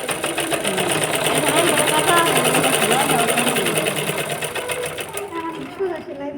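Sewing machine stitching palazzo pants, a steady mechanical whir running through most of the clip beneath ongoing conversation, then easing off near the end.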